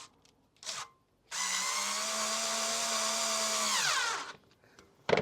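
Electric drill boring through a scrap piece of sheet, one steady high whine lasting about three seconds that dips in pitch as it breaks through, close and loud, with short clicks before and after.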